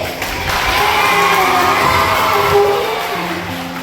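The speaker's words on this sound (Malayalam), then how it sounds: "നല്ലൊരു കൈയടിച്ചേ." A school audience at a Teachers' Day event erupts in loud cheering and shouting, with children's voices whooping over a sustained crowd roar that swells and holds throughout.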